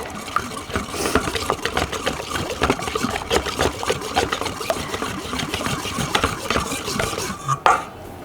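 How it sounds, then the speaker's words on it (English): A spoon stirs molasses muffin batter in a bowl with quick, continuous scraping and clacking strokes, close and fairly loud, ending in a sharper knock. "So we're gonna mix until combined"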